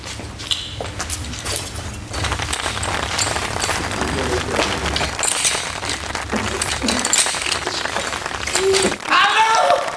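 Theater audience at a stage comedy play applauding a contestant, a sustained wash of clapping and cheering with voices mixed in throughout.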